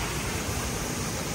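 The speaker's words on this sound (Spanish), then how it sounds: "Debajo de esa cascada." Waterfall at Salto de Collores in Juana Díaz, Puerto Rico, a dense, steady rush of falling water heard up close and alone for a brief moment.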